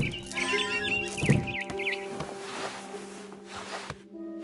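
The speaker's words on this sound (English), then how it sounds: "Then I heard chirping outside my window. It was a barn swallow going back to her nest." Bright barn swallow chirps from the video game What Remains of Edith Finch trill repeatedly over a steady hum and background tones, fairly close and clear, with a few soft thumps along the way.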